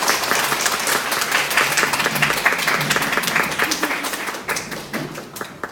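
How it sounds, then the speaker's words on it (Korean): A big round of applause from a seminar audience, dense and sustained at first, then thinning into scattered claps toward the end. "다시 한번 큰 박수 부탁드리겠습니다"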